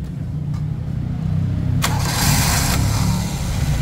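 A Toyota 2E engine cranks and catches after a carburetor overhaul with a new distributor, settling into a steady close idle rumble that lifts slightly as it runs, with no talk over it.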